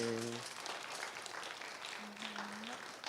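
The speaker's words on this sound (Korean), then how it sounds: "우리 박수로 축복해 주세요" A church congregation claps during a Sunday service at Gwangyang Jeil Church, blessing a new member receiving a completion certificate. The applause is steady and fairly faint, with a brief voice at the start and again partway through.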